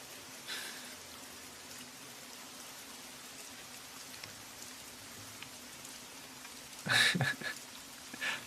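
Rain falls with a steady, soft patter and hiss at moderate distance, interrupted near the end by a brief louder clatter of drops.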